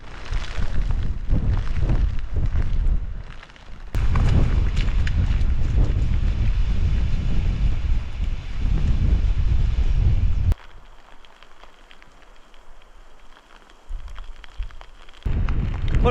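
Strong wind roars and buffets the microphone on a mountain walk through rain, sleet and snow in the hills around Craignamara and Glengala, loud and gusty, dropping to a calmer stretch before surging again.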